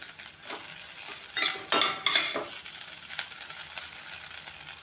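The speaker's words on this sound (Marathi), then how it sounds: "आता यावरती आपण थोडीशी कोथिंबीर घालून घेऊया आणि मिक्स करून घेऊया भाजी" Grated potato vegetable dish being mixed with coriander in a pan after the heat is turned off, giving soft repeated scraping and stirring clinks over a faint steady hiss.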